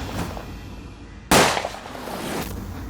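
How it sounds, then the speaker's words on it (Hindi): A single sharp pistol gunshot rings out in a tense Hindi TV drama scene, a loud sudden crack with a short decaying tail against a dramatic background score. "आखिरकार पिस्तौल से गोली चल जाती है।"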